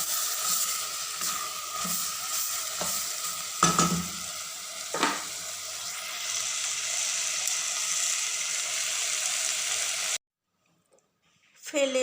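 Vegetable stalks sizzle and fry in a pan with steady broadband hiss, punctuated by a few stirring scrapes and clatters, then a short silence and a faint bump at the end.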